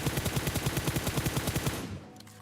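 Rapid automatic gunfire from the PUBG video game, fired while switching seats in a moving vehicle: a steady burst of about seventeen evenly spaced, loud shots that stops abruptly near the end, followed by faint rumble.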